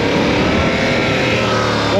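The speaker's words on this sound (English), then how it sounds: "Listen to that engine." Motorcycle engine accelerating hard through a leaning corner, a loud, steady, rising drone captured up close for about two seconds with no talking.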